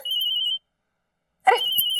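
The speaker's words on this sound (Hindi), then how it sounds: "अरे फोन आ रहा है भाभी का।" A telephone bell ringing in a home, a bright trilling ring, a pause of silence, then ringing again as a brief noise cuts in, close and clear.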